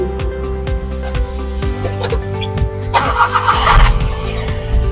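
A Suzuki DA65 4WD with a 660cc K6A engine cranks and starts nearby, a rhythmic churning that catches and settles into a steady idle, followed by a short burst of revving, with no talking.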